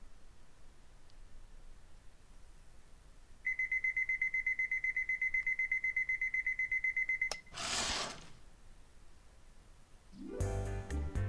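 An alarm clock in a visual novel game rings with a steady, loud electronic beeping for several seconds, then cuts off abruptly. A burst of rustling follows, and a short musical chime closes the sequence.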